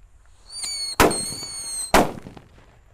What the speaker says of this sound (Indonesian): Ngabuburit menyalakan mercon buntelan kertas